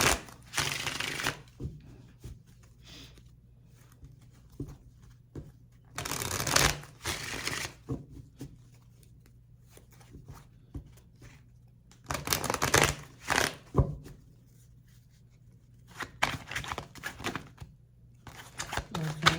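A deck of tarot cards gets shuffled in several quick riffling bursts, each a second or two long. Quiet pauses and soft speech fill the gaps between bursts.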